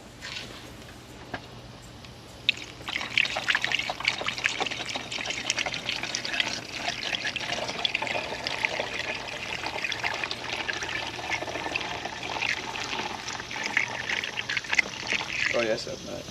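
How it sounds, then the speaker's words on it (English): Coolant fluid poured into the radiator of a Nissan Sentra, a steady trickling, gurgling flow of liquid that runs continuously for about thirteen seconds at moderate loudness. "Throw some fluid in here."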